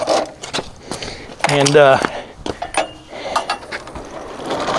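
Ratchet wrench clicking as oil pan bolts come off a Freightliner Classic engine outdoors, quick irregular clacks and a short rapid ratcheting burst, mixed with scraping and someone talking throughout.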